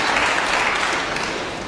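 A snooker crowd at a match involving Ding Junhui breaks into loud, dense applause, a close, continuous burst of clapping that fills the arena for the whole moment without any talk.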